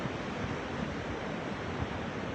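Ocean surf at London Bridge, a limestone sea arch on the Australian coast, on a summer morning with a decent swell: a steady, loud wash of broken waves and spray with a little wind noise, no voices.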